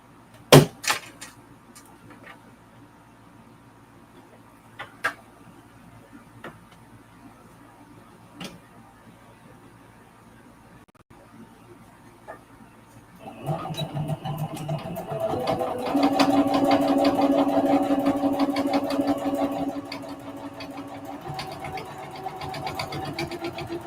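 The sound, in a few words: home sewing machine sewing a mug rug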